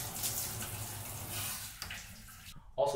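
Shower water in a Japanese bathroom runs as a steady hiss, then cuts off near the end before a brief new burst of spray.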